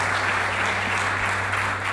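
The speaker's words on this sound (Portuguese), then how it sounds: "Vamos aplaudir o Senhor Jesus." A church congregation claps together in steady, dense applause that fills the hall evenly, close and loud, with no voices standing out.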